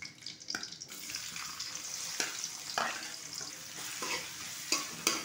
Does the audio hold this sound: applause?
no